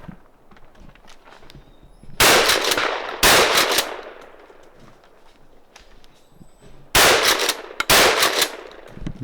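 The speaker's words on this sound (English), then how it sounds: "Shooting guns out here." Guns fire at an outdoor shooting range in Florida in two pairs of sharp, loud, rapid bursts, each lasting about a second, with quieter rustling and movement between the bursts and no talk.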